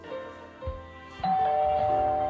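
A doorbell chime rings in the animated A Charlie Brown Christmas: a few clear, sustained bell tones, the last one louder and held, over quiet background.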